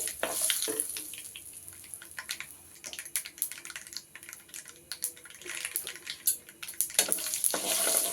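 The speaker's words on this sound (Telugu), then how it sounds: "పచ్చనగపప్పు మినపప్పు మాడకుండా చూసుకోవాలండి కొద్దిగా వేగాలండి" Chana dal and urad dal fry in a pan for mango pickle, giving a steady crackling sizzle with brief stirring scrapes throughout, close and moderately loud, with no talking.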